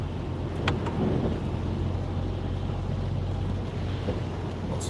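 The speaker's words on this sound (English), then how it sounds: "Lots of water running down here as well. You can hear it under the tyre." Car tyres roll through rainwater running down a road near Atherton, in rain and hail, with a steady broad hiss of spray and road noise, close and continuous.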